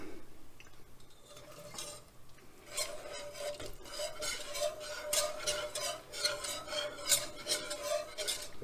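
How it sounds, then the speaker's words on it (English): A spoon stirring cheese as it melts over very low heat in a pot, with quiet repeated scraping and rubbing strokes that grow busier after the first few seconds. "Now I'm going to start adding the cheese and stirring."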